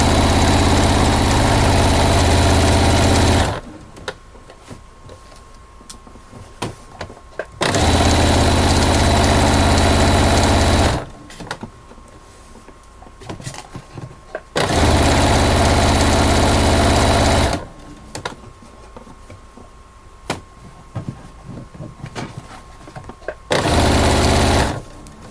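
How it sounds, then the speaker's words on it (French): A sewing machine topstitches a fabric notebook cover in three loud close runs of about four seconds each, separated by quiet gaps with small handling clicks. "je vais faire la surpiqûre de l'autre côté"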